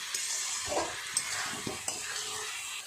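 Potatoes and spices being stirred and fried in a pan, a steady soft sizzle broken by several sharp scrapes and taps of the spoon against the pan, with no talking.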